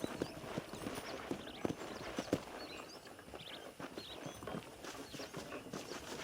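Horse hooves clip-clop in a steady walking rhythm in the video game Red Dead Redemption, close and moderately loud, with faint birdsong in the background and no talk.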